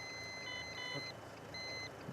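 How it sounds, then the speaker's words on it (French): A breathalyzer used in a police roadside alcohol test beside a busy motorway gives out thin electronic beeps, a few short tones and then longer ones, faint beneath steady traffic rumble. "Tant que vous entendez le bip, vous soufflez."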